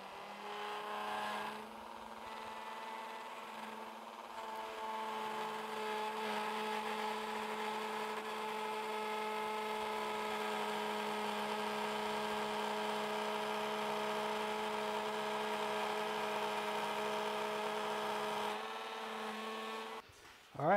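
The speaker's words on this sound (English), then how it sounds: "Now I'm going to use this router bit with this bearing to trace just like I did before" Router fitted with a bearing-guided bit cutting a half lap in a wooden shelf piece, a steady high whine held for about twenty seconds, with a brief pause near the start and a spin-down at the end.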